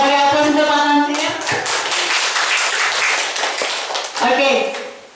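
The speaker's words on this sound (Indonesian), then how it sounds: "Kita beri aplaus untuk Pak Tamsil." Audience applause for Pak Tamsil at a school event on positive culture: a burst of many hands clapping fills the middle of the clip, with a voice talking just before and returning as the clapping fades.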